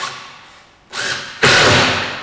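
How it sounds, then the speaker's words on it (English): A power driver sends screws home into a wooden lath on a planter. Two loud bursts come close by, a brief whir and then a stronger sustained one, with no talking. "just send them screws home"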